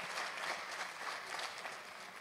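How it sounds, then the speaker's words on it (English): A live concert audience at an outdoor pavilion claps in a dense, steady burst of applause, faint and distant, with no talking. "How about a round of applause for our sound gentlemen down there doing the lights and all the sound?"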